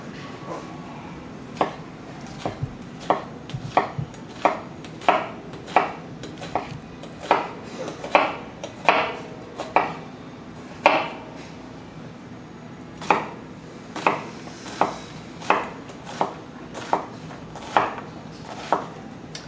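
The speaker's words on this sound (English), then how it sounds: "That thing just flew through that onion like it wasn't even there" A Kitchen Emperor Damascus chef knife chops through an onion on a board, with about twenty sharp, evenly paced knocks over a low room hum, close and clear and no one talking.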